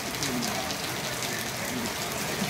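Rain falling steadily in Vrindavan, an even hiss of drops pattering on surfaces nearby, continuous and moderately loud with no voices.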